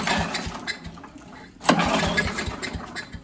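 A small lawn equipment engine, cold and primed with the choke set, is yanked into life with a pull cord: a sharp tug, then a rough, sputtering start that keeps running close by.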